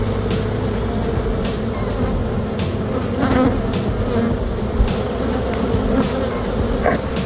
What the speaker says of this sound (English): this is where all the bees are.